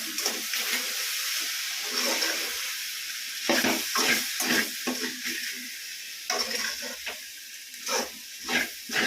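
Okra stir-fries in a pan with homemade chilli powder, a steady close sizzle broken by repeated scraping and stirring strokes of a spoon.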